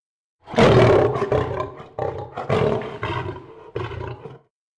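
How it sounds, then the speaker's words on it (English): A lion in a jungle setting roars and growls in several loud, close bursts, rough and throaty, heard alone without talk. "Just as they pick as many as they can, they hear a growl."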